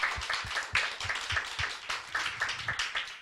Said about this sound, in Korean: 우리 파송의 박수